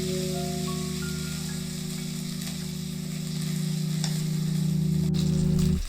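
Chopped ginger stirred and fried in hot oil in a pan, a steady close sizzle with faint scraping of the spoon, alone with no talk, for a few seconds before a paste is added.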